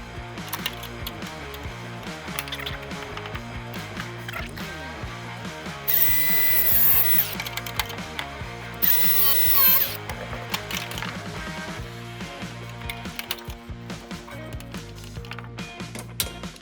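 A power tool pops the spot welds on an early second-generation Camaro center console, whirring and ratcheting with a steady mechanical rhythm and two louder, harsher bursts partway through.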